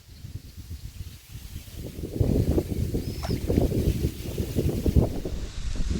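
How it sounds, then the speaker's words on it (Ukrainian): Steady gusting wind rumbles and buffets the microphone outdoors while fishing, growing stronger partway through and staying loud to the end. "Вітер помінявся, щось занадто сильний почав дути"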